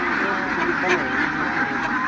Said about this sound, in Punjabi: ਖਾਕੀ ਕੈਮਲ ਨਸਲ ਦੀ ਇਹ ਬਤਖ ਹੈ।